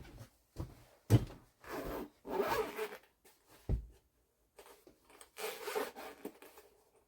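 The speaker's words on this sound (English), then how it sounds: "what we're gonna do is basically cut the box. Let me get my X-Acto knife." A cardboard box is cut open with an X-Acto knife. Close, dry scraping strokes come in short bursts separated by quiet pauses, alone without talk.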